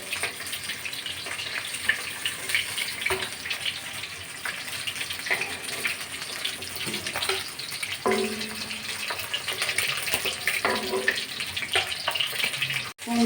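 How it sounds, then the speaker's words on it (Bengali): Pieces of rohu fish frying in oil in a pan, a continuous close hiss and crackle with scattered pops and light clinks of utensils, steady throughout with no voices. "আমি সমস্ত মাছগুলো একই রকম করে ভেজে নেবো"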